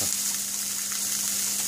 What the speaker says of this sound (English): Now we're going to stir fry these for 3 minutes